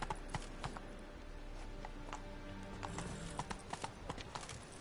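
Horse hooves clip-clop at a steady walking rhythm in The Witcher 3, close and fairly quiet over soft ambient game sound.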